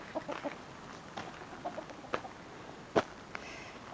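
Chickens clucking close by in short scattered bursts, with a louder squawk near the end over a low outdoor background.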